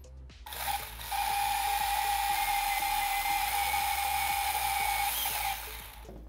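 A small fan on an RC drift car smoke generator whirs steadily on a bench test, a loud constant hum with a high whine that starts after a brief spin-up and holds for about five seconds.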